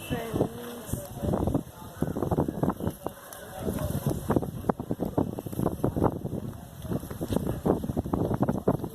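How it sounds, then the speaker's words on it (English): Strong, cold gusts at Lakshman Jhula buffet the microphone in rough, uneven bursts while a person talks over the roar. "it's too windy over here and it's too cold"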